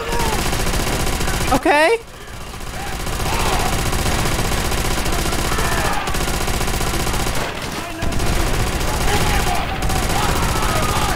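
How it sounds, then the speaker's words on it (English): Dense, continuous automatic gunfire from Call of Duty: World at War fills the clip, loud and close with brief dips, while a player's voice talks briefly over it. "This gun is too loud."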